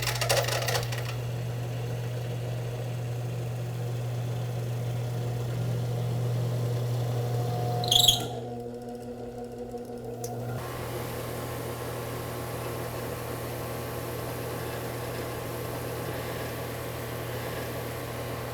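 Car alternator switched on and spinning on a test bench during a voltage regulator test, a steady electric motor hum and whir that shifts in tone partway through and then settles into a constant drone.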